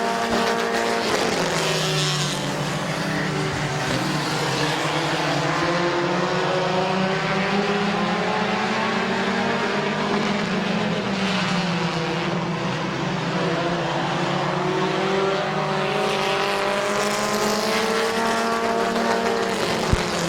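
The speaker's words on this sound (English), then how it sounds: "Big turn number 3. Little Animal, your race leader" Race cars roaring around a speedway oval in a race, engines loud and steady throughout with rising and falling harmonic pitches as cars pass and corner, no talk.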